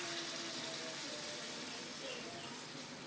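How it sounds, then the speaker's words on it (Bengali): Hot water poured from close by into chicken in a cooking pot, a steady, even rush of liquid that runs unbroken for about three seconds at moderate loudness. "গরম পানিটা দিয়ে দিচ্ছি মুরগিতে"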